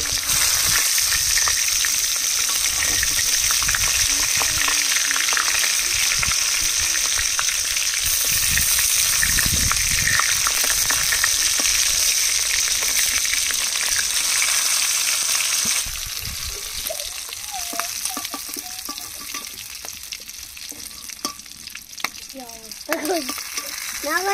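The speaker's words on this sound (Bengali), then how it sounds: "পটলগুলো এভাবে উল্টে উল্টে ভেজে নেব।" Stuffed pointed gourds fry in mustard oil in a wok, a steady loud sizzle running throughout, with a scraping turn of the pieces and a drop in intensity partway as they settle, no voices.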